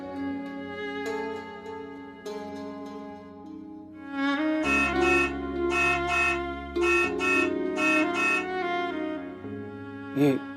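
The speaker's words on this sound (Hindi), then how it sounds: "ये इस समय हॉर्न कौन बजा रहा है?" A car horn honks in a series of short toots over a background music bed, loud and close, with the last blast coming near the end; no one speaks.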